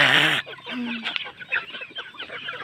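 Hens clucking nearby while eating banana stalk in a busy, irregular stream of short calls, opening with one louder, drawn-out squawk.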